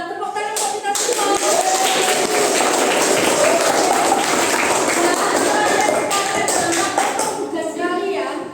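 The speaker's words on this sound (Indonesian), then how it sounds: "Tepuk tangan untuk kita semua" A seventh-grade class in an Indonesian school claps together in a dense, steady patter of many hands lasting several seconds, with voices chattering underneath.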